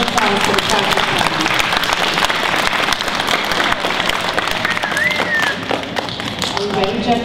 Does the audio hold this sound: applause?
yes